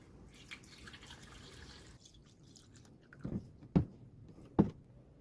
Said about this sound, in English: Let's fill her up with fresh coolant. Slowly pour this in there.